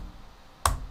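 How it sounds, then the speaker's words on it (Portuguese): A single Enter key press on a computer keyboard, one short crisp click near the end of an otherwise quiet room, heard up close. "vou dar simplesmente um Enter"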